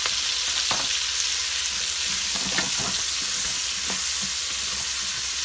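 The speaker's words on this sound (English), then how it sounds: "Just give it a stir." Short ribs and carrots fry loudly in an Instant Pot with bacon fat, giving a steady close sizzle while a utensil stirs them in irregular scraping strokes.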